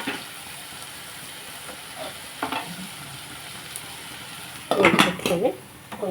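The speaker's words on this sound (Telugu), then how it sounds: "ఉల్లిపాయలు వేగుతున్నాయి కదండి" Onions fry in a pan with a continuous soft sizzle, and a few metal utensil scrapes and clinks grow louder and busier toward the end. No one speaks.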